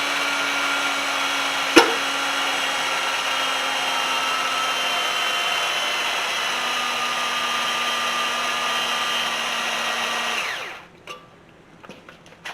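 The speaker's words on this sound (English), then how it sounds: "I'm going to try that little buzzsaw I got first" A small cordless buzzsaw whines steadily through thin 16 gauge sheet metal, a loud continuous high cutting tone with one sharp knock early on, ending abruptly and winding down into quiet clatter.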